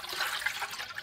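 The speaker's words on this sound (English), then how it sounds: "I'll just add some water." Water is poured into a cup of coffee, a steady close trickling splash of liquid running for about a second with no voices.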